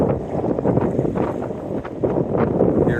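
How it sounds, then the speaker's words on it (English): Wind gusting across a West Wight Potter sailboat out on open water, a steady loud rushing buffet with muffled broadband roar close to the microphone and no speech. "You can see it's wind conditions are picking up here a little bit."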